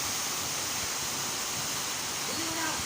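A waterfall at falls in Batangas makes a steady, loud, broadband rushing roar that continues without a break.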